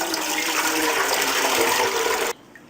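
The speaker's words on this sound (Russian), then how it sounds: "Одеваю и буду выливать в кастрюлю." Cooled brine from cucumber jars pours into a pot through a jar attachment, a steady rushing splash of water that stops abruptly near the end.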